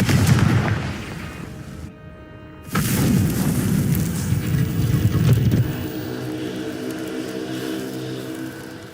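Confringo blasting-spell explosions in a Harry Potter video game: loud booming blasts with a rumbling low roar, a brief cut to silence, then another heavy blast that decays into a sustained ringing drone.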